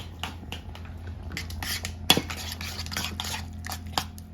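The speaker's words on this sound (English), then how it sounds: "Now, we're going to mix this up well." Close, rapid clinks and scrapes of a utensil stirring soft cheeses with black pepper and kosher salt in a bowl, irregular and continuous with no talking.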